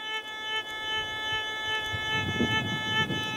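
A Gold Bug 2 metal detector's steady electronic tone drones continuously while ground balancing, wavering slightly in pitch, with soft rustling and scraping beneath it.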